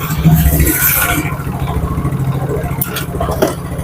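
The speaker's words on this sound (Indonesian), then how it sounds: "Ini mesin masih hidup." Yamaha Mio Soul GT 54P scooter engine idling steadily close by, a continuous low mechanical hum with a brief louder burst at the start and faint clicks toward the end.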